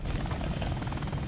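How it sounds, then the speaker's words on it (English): A helicopter in the Shinobi video game, burning, chops steadily and loudly for the whole stretch, its dense low rotor thrum and engine roar continuous with no voices over it. "The helicopter is back."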